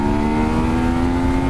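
A Triumph Street Triple RS motorcycle engine hums steadily under acceleration, a close, loud and continuous drone with no talk over it.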